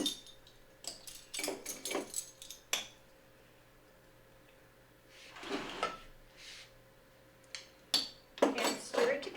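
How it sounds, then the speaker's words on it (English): Yeast and sugar are stirred together in a kitchen bowl, with quiet scraping and clinking strokes in uneven clusters, separated by near silence. "We're stirring it all together."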